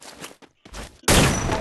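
Gunshot landing a headshot in a shooting video game, a loud dense burst of fire that starts abruptly about a second in and holds steady to the end, after softer scattered noises.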